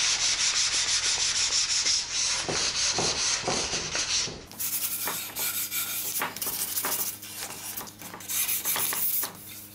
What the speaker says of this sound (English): I use some 220 grit sandpaper on a gator sanding block to smooth these things off